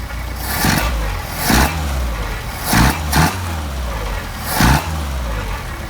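Mercedes 190SL engine on Solex carburetors running at a steady idle, close and continuous, with four short throttle blips that rise and fall back to idle.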